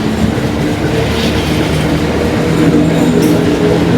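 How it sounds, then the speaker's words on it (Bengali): The Mahananda Mail train pulls out of Alamdanga railway station in Chuadanga, a loud, continuous rumble of rolling carriages and wheels close by, with a faint squeal late on. "আলমডাঙ্গা রেলওয়ে স্টেশন ছেড়ে চলে যাচ্ছে আমাদের এই মহানন্দা ট্রেনটি"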